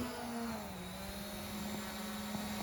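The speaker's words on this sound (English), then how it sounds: "we can see the drone is now going up and up and up" Ruko F11 Pro drone climbing after takeoff, a steady high-pitched propeller whine with a tonal hum holding throughout, moderately loud and continuous with no talk.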